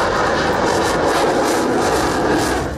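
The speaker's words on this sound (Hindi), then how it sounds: "दिल्ली से सिर्फ 10 किलोमीटर दूर आसमान जेट इंजन से गरज रहा था।" A Rafale fighter jet passes overhead near Delhi, its engine a loud, steady, broadband roar that fills the whole stretch without a break.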